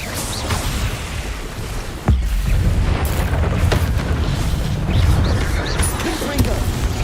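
An Incendio fire spell in Hogwarts Legacy goes off with a sudden booming burst partway through, then a sustained rumbling fiery roar with crackles and further bursts over busy game sound.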